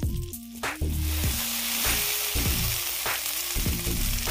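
Bread slices dipped in egg mixture sizzling as they fry in a hot pan for French toast, a steady crackling hiss broken by repeated sharp clatters of the pan and utensils.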